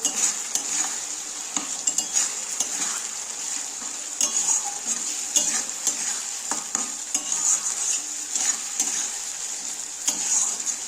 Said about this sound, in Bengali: এটা দিয়ে দিই এটা একটু কষবো ভালো মতো কষবো